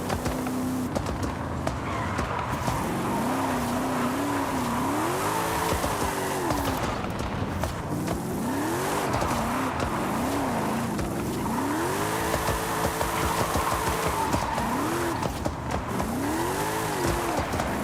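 Chinese Volkswagen drifting in Forza Horizon 5 free roam with a steering wheel, engine droning and wavering through repeated pitch swoops as tires squeal and skid in long continuous slides, loud and close throughout.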